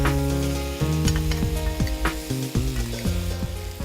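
Glass noodles stir-fried in a hot pan, a loud crackling sizzle with repeated rhythmic scrapes and tosses of the spatula, close up and without speech.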